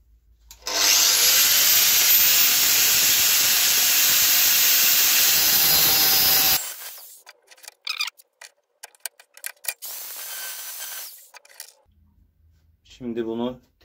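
Welding on a flat steel bar gives a loud, steady, close hiss for about six seconds. Scattered clanks and handling noises follow, and someone speaks briefly near the end.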